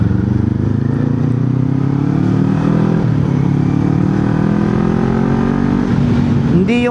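A Kawasaki Z400 motorcycle rides and accelerates, its engine a loud steady drone rising in pitch through the gears, with a sharp whine near the end.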